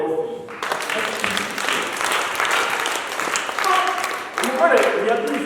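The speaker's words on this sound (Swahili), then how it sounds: "Pigia Bwana makofi." A church congregation claps in a steady, sustained round of applause, loud and continuous, with voices mixed in beneath the clapping.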